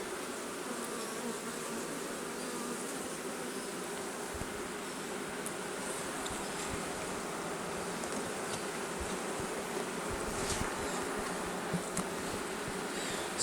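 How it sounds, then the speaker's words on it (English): Honey bees buzz steadily around a hive in early fall, a dense continuous hum close to the microphone with occasional individual bees zipping past, no talking. "There's still lots of bees"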